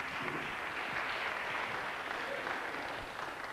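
Steady, sustained applause from an audience at a memorial concert, honoring a young Irish dancer; the dense clapping holds evenly throughout at moderate distance.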